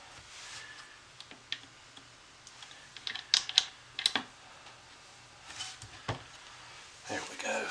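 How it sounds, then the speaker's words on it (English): A handmade soap loaf from a column mold with a drop swirl is sliced by hand, giving sparse, faint clicks and knocks scattered between quieter moments, with a few sharper taps near the middle. "Let's start cutting some soap."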